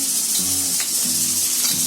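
Onion roasts with ginger, garlic, green chilli and coconut spice mix in a pan for Puneri misal, a loud, dense, continuous sizzle heard up close with faint tonal hum beneath.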